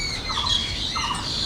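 Turkish tumbler pigeons in a farm loft give short, faint squawking calls, a few repeated bursts against a quiet hiss with no talking.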